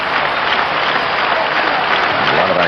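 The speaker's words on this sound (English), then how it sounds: "A lot of activity from this predominantly Oriole crowd." A dense, steady roar of applause and cheering from a mostly Orioles crowd at a Pirates–Orioles World Series baseball game, continuous and loud throughout with no clear voices standing out.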